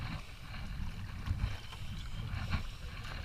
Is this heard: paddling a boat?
yes